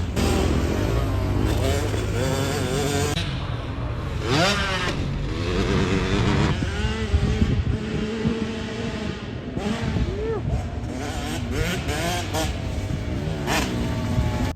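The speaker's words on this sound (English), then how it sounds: "they get all the big bikes off the main track and they let the 65s have a go on it" Kids' 65cc motorbikes race around a motocross main track, engines buzzing and revving continuously at mid distance, several bikes overlapping with rising and falling pitch, no talking.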